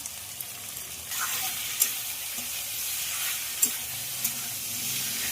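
Taro stolons fry in a pan with turmeric and salt, giving a steady close sizzle with a few sharp pops and spatters and no voices.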